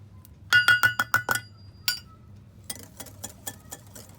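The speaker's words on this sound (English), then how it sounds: "now we're going to add the oil, and we're going to mix that really well again" A utensil stirs milk and oil into chocolate cake batter in a bowl. It makes a quick run of sharp clinks against the bowl, then a pause and softer scattered taps, close and without talk.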